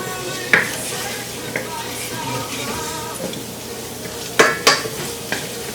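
Garlic sizzles in olive oil in a pan as a steady, close crackling hiss, broken by a few sharp clinks and scrapes of a utensil stirring against the pan.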